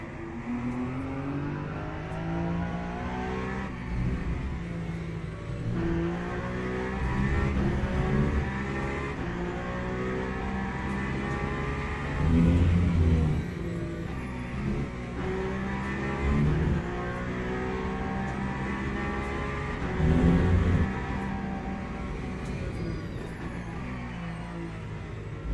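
A Peugeot race car engine in the Le Mans Ultimate sim racing game at Spa, a continuous high-revving drone with gear changes and surges in pitch, steady and close throughout.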